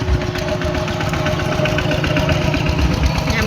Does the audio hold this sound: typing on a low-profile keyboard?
no